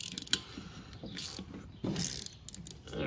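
A taper lock pulley is worked loose on its shaft, giving close metallic knocks, scrapes and clicks in an irregular rhythm before it comes free, with no talk.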